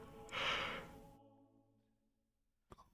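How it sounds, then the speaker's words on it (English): A single person's yawn, a breathy drawn-out exhale that fades over about two seconds, near and quiet, followed by a faint click. "Pardon me while I yawn"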